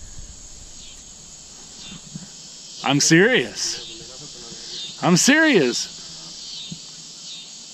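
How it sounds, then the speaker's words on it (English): Crickets chirp in a steady, high, continuous trill during the 2017 total solar eclipse in the USA, persisting faintly in the background while someone speaks in two short bursts. "the crickets are fading away."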